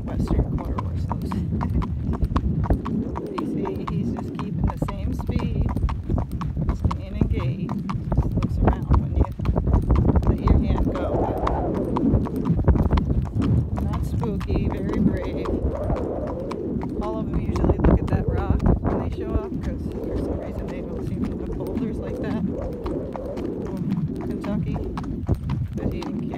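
Continuous rhythmic clip-clop of a Tennessee Walking Horse's hooves at a flatwalk gait, close and steady, with occasional faint bird calls in the background.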